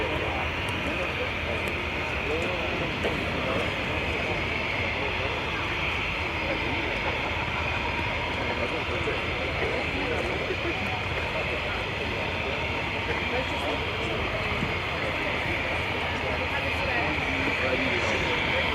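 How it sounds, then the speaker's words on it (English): A Lockheed U-2 Dragon Lady jet roars steadily during an airshow flying display at RIAT 2024, a constant loud broadband rumble with a commentator's voice over the PA. "Rate of climb of the U-2, as we saw demonstrated to some extent on takeoff and on the climb out we just saw, is very impressive."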